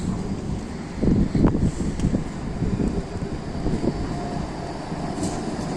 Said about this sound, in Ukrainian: Вон трамвайчик іде.